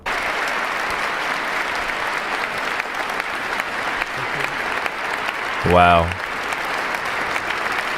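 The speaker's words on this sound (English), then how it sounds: "That's powerful. Standing ovation." Sustained applause from a large audience giving a standing ovation at a presidential inaugural speech, dense and steady, with a brief spoken exclamation near the end.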